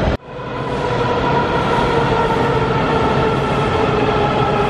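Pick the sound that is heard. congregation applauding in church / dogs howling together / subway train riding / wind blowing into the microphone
subway train riding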